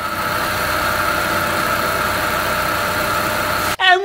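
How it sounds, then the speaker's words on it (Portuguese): A Chevrolet Prisma engine idles smoothly after a head gasket replacement, a steady, even running tone held close and loud for nearly four seconds before cutting to a brief different sound at the end. "Olha o motor funcionando. Olha que funcionamento suave"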